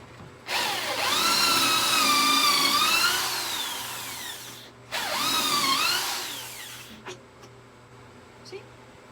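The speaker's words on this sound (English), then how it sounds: "I am going to drill pocket holes into them" A power drill whines loudly as it bores pocket holes into wood in two long runs, pitch sagging under load, followed by a few light knocks.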